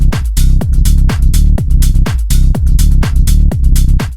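Tech house sub bass preset from the Serum synth pumps under a steady four-on-the-floor drum groove with bright hi-hats and claps, loud and continuous throughout.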